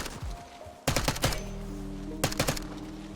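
Bursts of rapid gunfire in Warzone, a short burst followed by two longer sustained volleys, loud and close with game ambience humming underneath.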